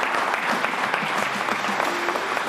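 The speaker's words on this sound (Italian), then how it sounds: "Bisogna dare insomma, un applauso a Dino e a Nicole" Dense, steady applause from an audience for the dancers Dino and Nicole, close and loud throughout with no pauses.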